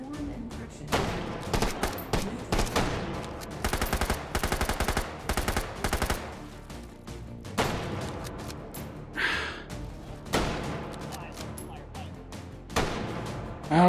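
Gunfire from a gun in the VR game Hot Dogs, Horseshoes & Hand Grenades comes in loud, rapid automatic bursts. Each burst runs a second or two and is split by short pauses, with occasional heavy impacts in between.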